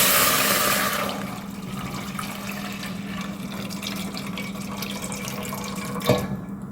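Cooking water from boiled lentils being poured into pumpkin sambar, a loud rushing pour at first that settles into a steady trickle and splashing, ending with a sharp clink.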